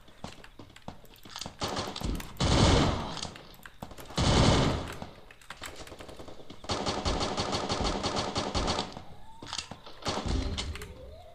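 Gunfire in a Free Fire Clash Squad ranked match comes as several loud bursts of rapid shots separated by short pauses, with softer game noises between them.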